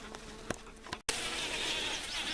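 Small bees and other insects buzz inside an insect-collecting sweep bag, giving a close, rustling drone with a few sharp ticks and a brief crackling burst partway through.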